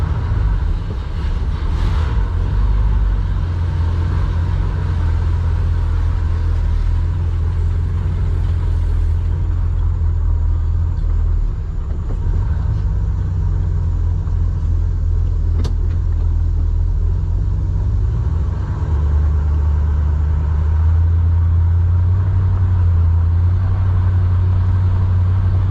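A project car is driven on the road, with a steady, loud low engine and road rumble heard from inside the cabin and occasional shifts in pitch as it drives along.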